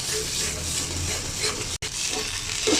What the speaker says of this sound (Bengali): আমি এক মিনিটের মতো একটু ভেজে নিচ্ছি